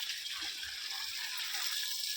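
Water pours into a clay flowerpot holding a tulsi plant, a steady close splash and gush with no break, and no talking.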